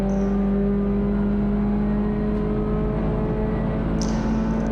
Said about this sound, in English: Car washes out, and then get on that throttle as soon as possible, get down to the line